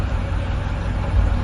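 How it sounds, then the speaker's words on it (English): A car engine idles steadily in slow traffic in a radio drama, a continuous low rumble that swells slightly toward the end, heard alone without voices. "My Timothy, this traffic really is appalling"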